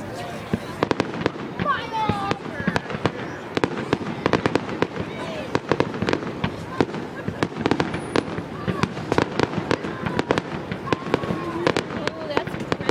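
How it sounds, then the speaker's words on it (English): Fourth of July fireworks at Twin Lakes, a continuous barrage of sharp bangs and crackling bursts, some near and loud, with people talking and reacting throughout. "4th of July fireworks."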